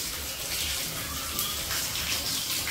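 Water gushing and splashing steadily as a village cowshed is washed clean, a continuous close rushing flow with no pauses.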